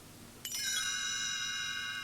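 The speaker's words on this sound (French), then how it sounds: "Vous saurez que le moment de tourner la page est arrivé quand vous entendrez le son de ce petit carillon." A single bright chime rings out cleanly and lingers, its tone sustaining over faint room hiss.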